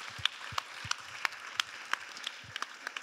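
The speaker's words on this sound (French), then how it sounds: "Vous pouvez vous applaudir." A small audience applauds at the close of a French live stand-up show, sparse, distinct hand claps scattered irregularly across a few seconds, fairly close and moderate in loudness, with no talking over them.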